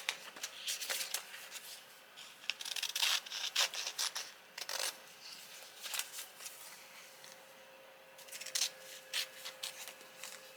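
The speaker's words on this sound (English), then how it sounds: "I'm going to trim off any excess so it doesn't get stuck to my mat." Scissors or a blade trimming excess glitter heat-transfer vinyl off parchment paper at a crafting table, giving soft, close scraping and snipping strokes in short irregular bursts, with no talking.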